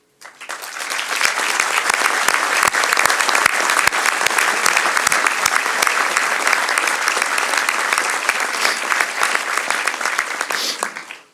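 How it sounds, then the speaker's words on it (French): An audience at a municipal New Year's wishes ceremony in Tournon breaks into loud, sustained applause that swells quickly, holds as dense clapping for about ten seconds, then tapers off. "je voudrais vraiment ce soir que vous les applaudissiez"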